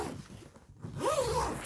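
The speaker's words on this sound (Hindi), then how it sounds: "ज़िप लगा देती हूँ" A zipper is pulled closed along a packed luggage bag, a close, raspy zipping run lasting over a second, with no voices.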